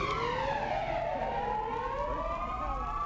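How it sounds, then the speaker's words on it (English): A wailing siren sweeps up and down in pitch, loud and continuous, used as a news sound cue signaling an arrest, with no talking over it. "Siren signaling an arrest."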